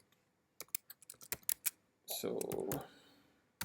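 Fingers type a command on a computer keyboard in a quick run of sharp individual key clicks, followed by a brief clattering burst and a final keystroke, with a single spoken word at the start.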